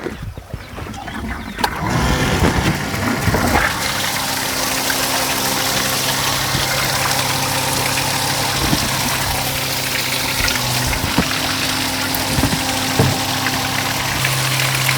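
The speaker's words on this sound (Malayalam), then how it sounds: "നമുക്ക് ഈ ഫിൽറ്റർ വീണ്ടും ഒന്ന് ബാക്ക് വാഷ് ചെയ്ത് നോക്കാം" A home vessel water filter being backwashed with its pump running, a loud steady motor drone and rushing, gushing water flow that holds for the whole stretch after a quieter start.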